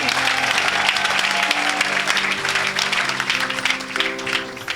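A church congregation claps and cheers in praise of the Lord, dense continuous applause mixed with voices, with a sung or sustained tone underneath throughout.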